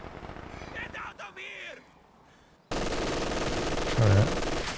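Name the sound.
machine gun fire in video game Company of Heroes 2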